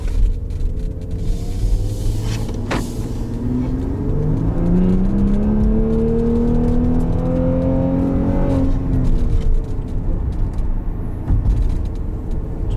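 Maserati Levante S SUV in sport mode accelerating from inside the cabin, its engine rising through the gears with a loud rumbling drone that climbs in pitch, levels off and eases toward the end; no talk.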